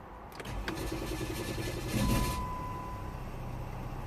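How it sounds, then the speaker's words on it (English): Jeep Grand Cherokee 3.0 diesel with a hard-starting fault cranks briefly and catches, settling into a steady idle close by, a faint electronic whine running through it. "Let's gonna crank."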